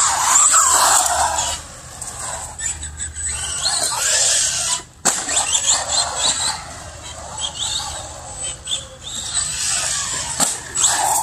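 An Arrma Typhon 3S RC car driving on concrete at a skate park, its electric motor whining up and down with sharp tire squeals and a sudden knock, close and loud.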